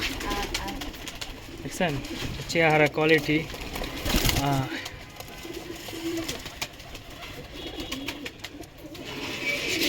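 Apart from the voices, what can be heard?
pigeons cooing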